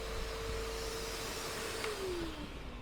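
A vacuum cleaner runs on power from a camping inverter system installed in a Rexton Sports Khan, giving a steady close whine and whoosh whose pitch dips slightly near the end.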